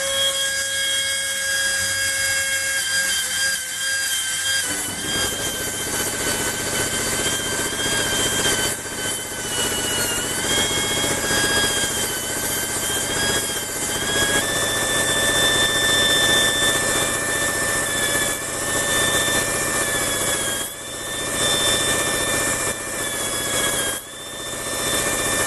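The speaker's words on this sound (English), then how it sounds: "we'll just sand this back." A part being sanded back on a vintage Schaublin 102 toolmaker's lathe in a workshop, a steady loud mechanical whine with shifting tones running throughout, alone without talk.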